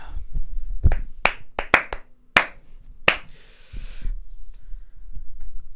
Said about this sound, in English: I gave him a very slow, unenthusiastic clap.